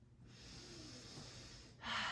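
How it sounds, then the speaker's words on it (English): Slow, controlled yoga breathing during a vinyasa flow: a long, soft, airy inhale hissing close to the mic, followed by a brief, louder rush of breath at the end. "Our breathing is nice and controlled."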